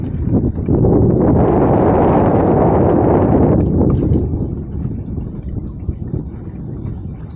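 A bass boat runs on its main outboard motor on Lake Guntersville, a loud rushing roar of engine and wind that holds for a few seconds and then eases off into softer water and wind noise.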